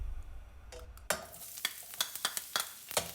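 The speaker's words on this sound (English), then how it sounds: "I add the garlic and onions and cook, stirring occasionally until softened." Garlic and onions fry in oil in a skillet over medium heat, a steady sizzle under repeated close scraping strokes of a spoon stirring the pan, with no talking.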